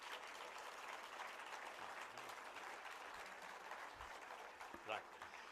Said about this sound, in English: Can we clap loudly for yourself?